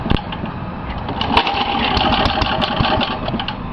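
A tiller engine sputters to life on choke with the throttle wide open, settling into a steady, fairly loud running chug close by, with no talk over it.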